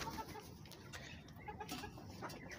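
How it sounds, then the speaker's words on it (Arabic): Chickens and ducks on a rooftop cluck in a steady, moderately faint stream of short calls, with scattered louder squawks over a busy background and no voices. "وهنا الطيور اهي"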